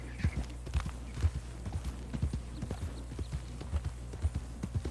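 Horse hooves clip-clop at a steady walking rhythm in the Red Dead Online video game, fairly quiet and close, with no voices over them.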